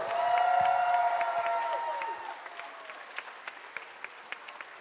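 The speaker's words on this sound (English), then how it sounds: "a big round of applause for all of our performers this evening" A school concert audience applauds after an instrumental performance, the clapping fading out to a few scattered claps, with a brief sustained tone at the start.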